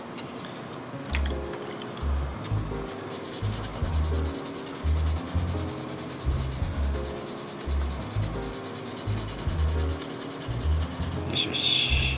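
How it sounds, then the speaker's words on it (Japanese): 800-grit sandpaper is worked against the body of a 1/24 Aoshima Liberty Walk R35 GT-R model kit, giving a close rhythmic scratching rub in repeated strokes, with faint background sounds around it. "まあこれでペーパーで800番で磨いていけばそのうち取れちゃうけどね"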